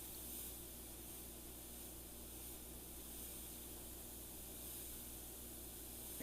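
Airbrush spraying thin black paint at roughly a three-to-one mix, a faint steady hiss of air running without a break, quiet and alone.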